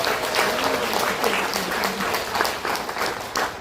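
Audience applause at an event about elder care, brisk clapping from a crowd that fills the room, with a voice faintly mixed in.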